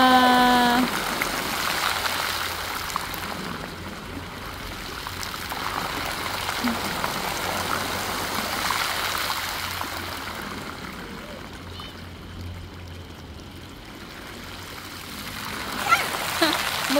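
At night in Wright Park, Baguio, a water fountain splashes in a steady, broad wash of falling water that swells and fades slightly, with a brief voice heard near the start.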